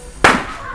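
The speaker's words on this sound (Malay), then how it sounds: "Mercun pun dah bunyi" A single firecracker bursts with a sharp crack, then a short noisy decay into quiet background, heard once at moderate distance.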